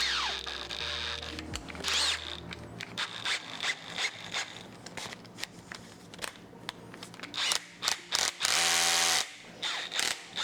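A DeWalt power drill with a stuck chuck that won't release its bit, heard close up in short whirring motor bursts mixed with ratcheting clicks and scraping as the mechanism is worked, with no talking.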